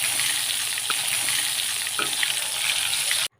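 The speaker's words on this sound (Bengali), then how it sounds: "এখন আমি বেগুনগুলো ভাজে নেব।" Eggplant slices frying in hot oil in a home kitchen, a steady close hiss of sizzling with a couple of faint taps, ending abruptly.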